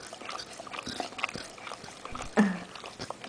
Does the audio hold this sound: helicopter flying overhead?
no